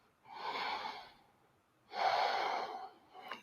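Two long, breathy exhalations while someone holds a deep squat stretch with the knees squeezed in, each breath close and airy, separated by a short pause and followed by a brief third breath.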